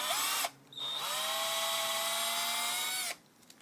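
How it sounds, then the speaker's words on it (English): A power drill whirs steadily into a fire staff for about two and a half seconds, a loud close sustained drone with a rising pitch at the start and a sharp cutoff, quiet shop sound before and after. "we drill into the staff"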